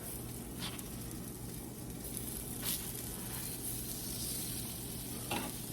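Small pancakes frying in an oiled pan, giving a steady close sizzle and hiss throughout with a few soft spatula taps and clicks.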